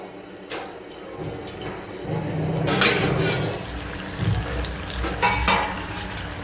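Water splashes into a hot pot of Kathiyawadi muskmelon curry with sizzling and clattering bursts, a few sharp clinks of utensils over a steady kitchen background.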